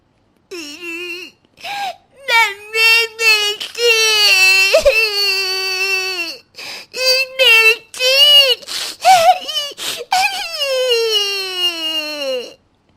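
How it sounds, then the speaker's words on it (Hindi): A cartoon baby girl cries loudly and close, in repeated wailing bursts with short sobbing gaps, rising and falling in pitch over several seconds. "थोड़ी ही देर में रीना की बेटी की रोने की आवाज आती है।"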